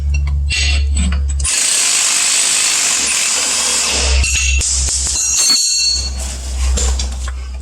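Power tool working the leaf spring bolts on a Jeep in a home garage, loud harsh whirring bursts broken by brief pauses and low rumbling, close up, with no clear talking.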